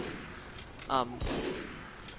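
Submachine gun fire in the video game Team Fortress 2: a couple of short, sharp gunshot bursts close together, cutting through a low background hum.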